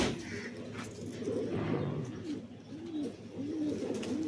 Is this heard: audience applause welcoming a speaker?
no